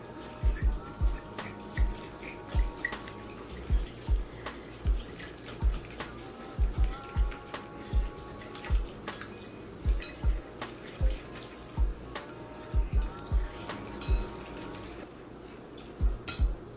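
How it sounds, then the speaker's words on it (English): Spoon clinks and scrapes against a bowl at a steady, repeating rhythm while Reuben sandwich fillings are stirred together with Worcestershire sauce, with wet mixing sounds and faint kitchen background between the strikes. "we're gonna try to stir all of this around"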